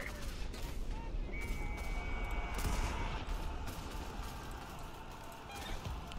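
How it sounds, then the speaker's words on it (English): Machine gun fire in the Roblox trench-warfare game Centaura, a dense, continuous barrage of shots and distant artillery rumble filling the whole stretch under faint voices. "I don't care if there's a machine gun."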